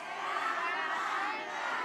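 An audience at an Islamic religious gathering cheers and shouts together, a dense, steady crowd roar heard from a moderate distance and lasting the whole moment without a clear break.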